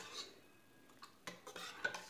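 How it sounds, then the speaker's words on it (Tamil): A ladle mashes cooked lentils in a pot of brinjal and drumstick sambar, giving a few soft scraping strokes and light metallic clinks, quiet and close, with no talking. "இதெல்லாம் கரண்டி வச்சு லைட்டாக மசிச்சு விட்டுக்கிறேன்."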